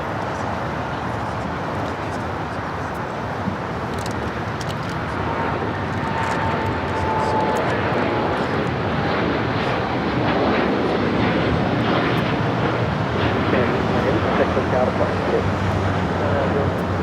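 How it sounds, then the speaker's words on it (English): A Japan Airlines Boeing 787 Dreamliner bound for Tokyo Narita rolls down runway 25 right, its distant engine roar swelling gradually into a louder broad rumble, with a voice talking over it. "the Japan Airlines Dreamliner heading to Tokyo Narita, Flight 61, now rolling down at 25 right"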